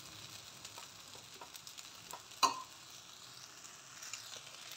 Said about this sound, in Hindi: और नींबू का रस डालने के बाद इसे हम मिला लेंगे अच्छी तरह से